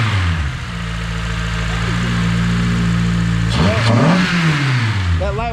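A K24-swapped Honda Civic FG2 with a lightweight flywheel idles steadily, then gets a sharp blip of the throttle, revving up and falling back to idle, loud and close.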